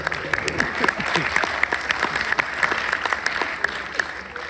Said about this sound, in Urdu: یوسفی صاحب کے لیے زوردار تالیاں ہو جائیں